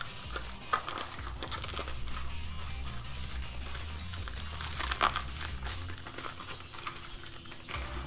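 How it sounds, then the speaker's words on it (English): Foil wrapper of a Dragon Ball Super card pack being torn and crinkled open, a dense run of close crackling rustles with a few sharper snaps, no voices. "Let's open it up here. Oh god. How do you open this?"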